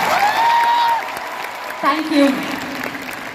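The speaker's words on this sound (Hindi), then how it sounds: "एक बार ताली बजा के आशीर्वाद दीजिए" Audience clapping at a stage event, a moderate burst under a voice and brief spoken thanks, fading after about a second.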